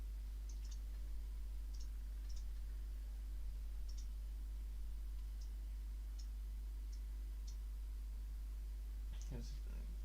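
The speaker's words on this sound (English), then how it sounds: "I hear the keyboard way too loud." A computer keyboard clicks in short, scattered taps during a World of Tanks Blitz gameplay session, sounding faint and close over a low, steady hum.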